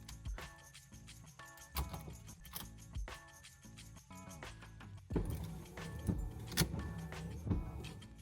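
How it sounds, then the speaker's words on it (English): An electric windshield wiper motor in an S13 drift car runs with repeated mechanical sweeps and whirring, close and moderately loud, with clicks and clunks between passes. "Our wipers work"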